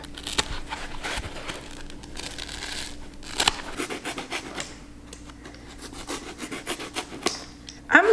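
A bar of soap being cut by hand to make a soap sponge, giving soft, uneven scraping and rubbing strokes close by, with brief louder scrapes partway through and at the very end.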